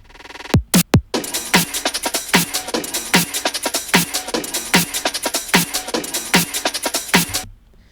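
An electronic drum build-up: two sharp opening hits, then a steady driving pattern of snare hits and crisp hi-hats layered over a bright, dense synth wash.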